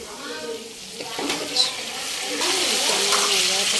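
Chicken meat fries with spices and bay leaves in a pan, a moderate sizzle and stirring that swell louder partway through, with faint voices in the background.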